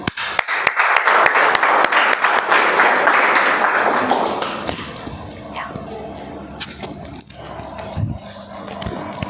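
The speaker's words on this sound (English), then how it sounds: "Let's keep the round of applause going for her" Applause from an audience at a Toastmasters club meeting, loud at first and then thinning out into scattered claps and room noise.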